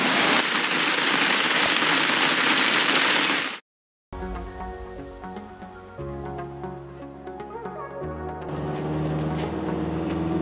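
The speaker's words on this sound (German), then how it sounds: "guck mal, der Regen, der da runterkommt, unglaublich." Heavy rain beats loudly on a motorhome awning at a campsite in Croatia, a dense roaring hiss that cuts out abruptly, followed by quieter layered sound.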